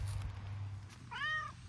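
A cat meows once outdoors in a garden, a short, clear, fairly close call rising and falling over a low background rumble.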